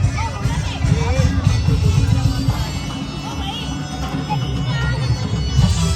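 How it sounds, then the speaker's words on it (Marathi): Guests at a grand wedding reception in Ghansoli village, Navi Mumbai, fill the venue with a dense crowd hubbub of overlapping chatter and background noise, loud and continuous. "आणि गर्दी बघा."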